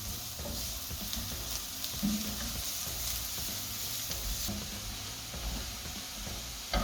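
Chopped garlic sautéing in a pan until golden brown for burnt garlic fried rice, a steady close sizzle and fry with occasional stirring scrapes, continuous and moderately loud with no talking.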